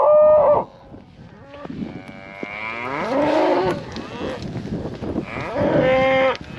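Cattle in snow during calving season moo close by, several long, loud lowing calls overlapping and rising and falling over a few seconds.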